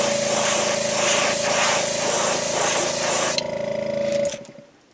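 An airbrush sprays Createx Transparent Orange paint onto the belly of a jerkbait in a continuous close, hissing spray with a faint steady compressor hum, then the spray cuts off and the sound fades away.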